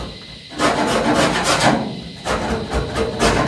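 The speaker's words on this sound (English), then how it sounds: "I'm just going to finish off with the wire wheel" A drill-driven wire wheel brush scrapes the bodywork of a Mk2 RS2000 Ford Escort under restoration, giving close, harsh abrasive rasping in two long bursts with a brief pause between them.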